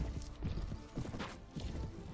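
Hooves pound rapidly in a dense galloping rhythm, close and fairly loud, amid a rough clattering din, in a cavalry battle in the video game Mount and Blade: Warband.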